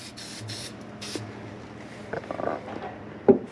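Rust treatment is sprayed into the shifter hole of a 1978 Chevette in a few short, close hissing bursts near the start. Quiet rustling and light handling noises follow.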